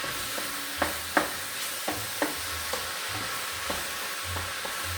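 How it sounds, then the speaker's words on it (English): Mushrooms and courgettes sizzling in a pan as they are stirred, a soft continuous fry punctuated by regular spatula scrapes and taps, close up, with no one speaking. "Then gonna give that a good stir and put it back on"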